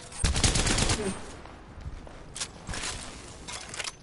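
Gunfire in a video game, a loud burst of rapid automatic shots at the start followed by scattered quieter shots and clatter.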